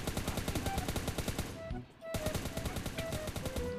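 Rapid automatic gunfire from the mobile shooter Survival Fire Battleground rattles in dense bursts, broken by a brief pause midway before the firing resumes.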